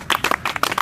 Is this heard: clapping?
yes